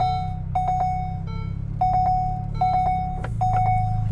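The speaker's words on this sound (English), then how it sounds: "You also have a huge number of warning klaxons and bells and whistles going off all the time" Repeated beeping warning chimes from a 2021 Ferrari Roma sports car when shifting into reverse, short bursts of steady electronic tones in a stop-start rhythm over a low engine hum inside the cabin.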